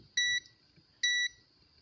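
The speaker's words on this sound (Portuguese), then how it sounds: "Vê se esses capacitorzinhos aqui, os caguetinhos, vê se eles bipam dos dois lados." A multimeter in continuity mode, probing capacitors on the circuit board of a JBL Link 10 speaker, gives two short identical electronic beeps about a second apart, clear and close against a quiet background.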